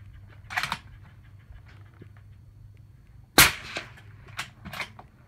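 A single sharp report from a 20-inch .308 rifle firing 175-grain SMK match ammunition, loud and close, ringing out in the middle after quiet, with fainter clicks and thumps before and after it.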